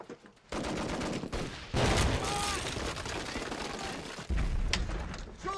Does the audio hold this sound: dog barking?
no